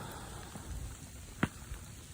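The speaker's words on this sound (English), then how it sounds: "it's a mixture of snow and ice, kind of like tiny hail." Graupel, a mix of snow and ice like tiny hail, falls during an elk hunt in the Colorado mountains, a soft steady patter with one sharp nearby tap midway.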